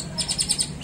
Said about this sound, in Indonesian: Ini burung dari mana Mas Eko?